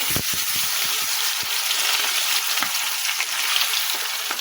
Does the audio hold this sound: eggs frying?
yes